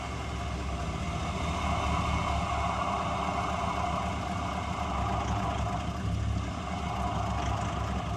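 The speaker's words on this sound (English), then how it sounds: "the tyres are just starting to spin" A 4WD reversing on soft beach sand, its engine holding a low, steady drone as the tyres spin, continuous and fairly close, with no talking.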